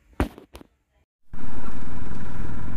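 A motorcycle engine on a ride toward hill villages in Nepal starts up suddenly after a couple of brief vocal sounds, then runs loud, close and steady with a continuous throaty rumble.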